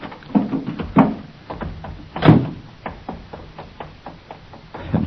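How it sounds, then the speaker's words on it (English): A car door is worked in a radio drama sound effect, giving a series of knocks, clunks and a louder thud spread across a few seconds, close and fairly loud with no talking. "I opened the door of the car."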